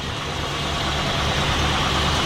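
A 1967 Ford Galaxie 500 engine idles steadily in an open engine bay, a close, even, continuous rumble with no talking over it.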